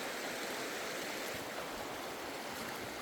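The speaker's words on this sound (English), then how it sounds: "Just takes the water flow from a 12-volt pump source" A steady rushing spray of water from a prospecting power washer fed by a 12-volt pump, a continuous broadband hiss with no pauses or voices.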